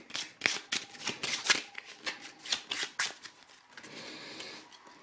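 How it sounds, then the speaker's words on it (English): Ecosfera board game cards are shuffled by hand at a table, a brisk run of riffling, flicking bursts that fade into softer sliding and handling near the end. "And I'll do the animal cards, shuffle those as well."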